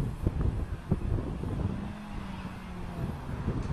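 A stock Ford Taurus with full exhaust races a Chevrolet Lumina across an open field, their engines a steady low rumble heard from a distance and buffeted by wind on the microphone.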